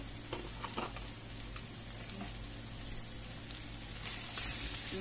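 Spiced chicken mixture with garam masala sautéing in a pan for chattipathiri, a soft, steady sizzle with light scraping and stirring, quiet and continuous without talk.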